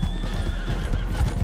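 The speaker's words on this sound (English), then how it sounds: "Damn, this is a pretty horse" A horse gallops in a cowboy video game, with rapid rhythmic hoofbeats close by and a neighing whinny riding over them across a short burst.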